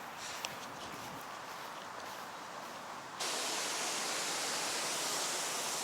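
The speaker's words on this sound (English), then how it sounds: "This is the White River" Flowing water of the White River in Indiana, a steady broadband rush that holds evenly for about three seconds, then jumps louder and brighter for the rest, with no voices.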